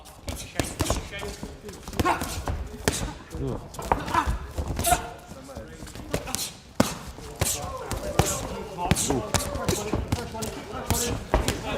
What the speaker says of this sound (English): This is what punches from heavyweight boxers sound like.